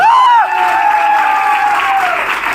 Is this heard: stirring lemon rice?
no